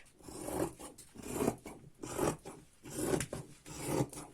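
Fabric is cut around a pinned sewing pattern for a girl's pajama top with a yoke, giving five rhythmic rasping scissor strokes, close and fairly quiet, with no talk.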